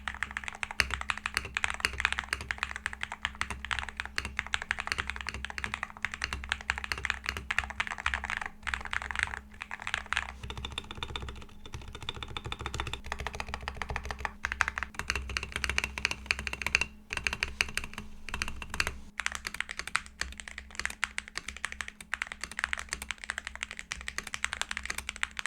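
Rapid, continuous keystrokes clatter on Drunkdeer X60 and A75 Ultra keyboards fitted with the same switches, dense and close-up and lasting the whole time, with only brief pauses and no speech.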